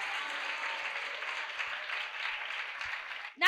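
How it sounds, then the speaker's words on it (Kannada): A church congregation claps in praise during a Kannada fasting prayer service, a dense, sustained crowd applause held at even loudness for about three seconds before a sudden loud burst at the end. "ಆ ನಿರೀಕ್ಷೆ ಇರುವವರು ಚಪ್ಪಾಳೆ ಹೊಡೆದು ದೇವರನ್ನು ಸ್ತುತಿ ಮಾಡು"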